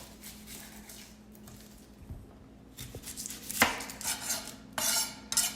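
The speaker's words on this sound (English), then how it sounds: "Next is our red onion. First thing you're going to do is cut the ends off." Knife slicing the ends off a red onion on a cutting board, a few sharp chops with a louder crisp cut in the middle, close and clear against quiet kitchen background.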